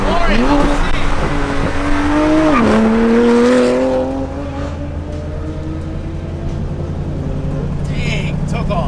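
A supercharged Mustang races a Lamborghini Sto, its engine loud and close with a rising then falling whine that settles into a steady roar and fades slightly, while people talk over it.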